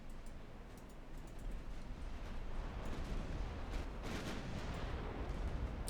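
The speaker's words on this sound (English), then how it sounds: "That is yet another hit with a torpedo on the enemy." A torpedo strikes an enemy ship in the naval game Ultimate Admiral Dreadnoughts, giving a sustained, fairly faint rumbling roar of explosion and spray that swells slightly partway through.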